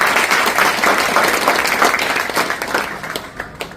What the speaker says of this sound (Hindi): परेश जी के लिए जोरदार तालियां